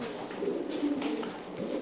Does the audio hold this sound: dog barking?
no